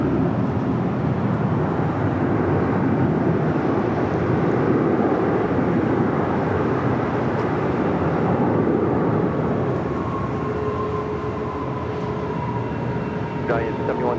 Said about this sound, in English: the 777-300ER coming from Sao Paulo, Brazil in the special Star Wars livery